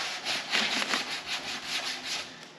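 Rounded sanding block rubbed back and forth over a surface, up and down and side to side, giving a steady, close, rhythmic scratchy rasp in repeated strokes with no voices.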